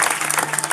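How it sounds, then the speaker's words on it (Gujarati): A short burst of dense clapping from an audience at a village gathering, fairly loud and continuous with no talk. "ને એકવાર જોરદાર તાળીઓથી વધાવી આપો"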